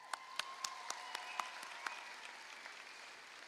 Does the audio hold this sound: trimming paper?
no